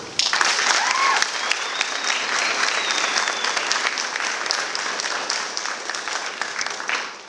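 Audience at a photography art show lecture applauding to welcome a speaker, a sustained, even wash of many hands clapping at close range, with a brief voice near the start.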